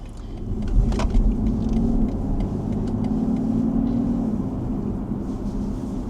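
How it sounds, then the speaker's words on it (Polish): Steady road and tire roar from inside a moving diesel car, a constant low rumble with engine drone, no voices. "Słychać te opony dużo bardziej niż w Tesli"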